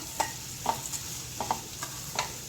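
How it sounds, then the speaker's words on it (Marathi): Sev gets stirred into an onion and tomato mixture in a pan, with soft spatula scrapes repeating every half second or so over a faint background sizzle; nobody speaks. "ह्याच्यात मी शेव टाकते दोन्ही शेव आपल्याला छान मिक्स करायचे"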